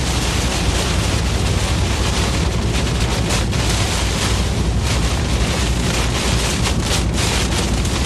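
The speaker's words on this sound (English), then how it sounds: "The inflow winds into this storm are incredible." Loud, steady roaring storm inflow wind buffets the microphone without pause, a dense rushing noise with occasional gusts and no voices.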